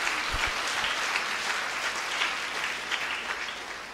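Congregation applause during a Hindi Catholic sermon by Fr. Anil Dev: steady, fairly quiet clapping from many hands, sustained and slowly fading over a few seconds.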